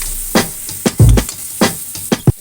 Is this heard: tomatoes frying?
yes